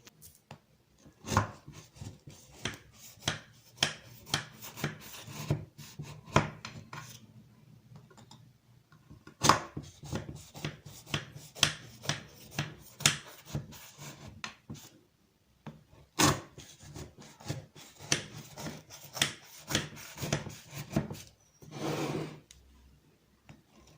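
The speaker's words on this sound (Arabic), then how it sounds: "باش نبدا نقص فيه هكا، نقصو بالسكينه نوريلكم" A knife cuts through a warm orange-flavored biscotti loaf in sharp, close chopping taps, coming in irregular bursts of rapid knocks on a board with short pauses between, moderately quiet and without speech.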